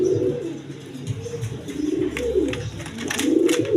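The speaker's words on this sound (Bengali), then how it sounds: "এখানে এক পেয়ার ব্ল্যাক কালার ডেনিশ কবুতর আছে দেখেন।" A pair of black Danish pigeons coos in low, rolling bursts that rise and fall throughout, close by, over a steady background hiss with faint higher chirps.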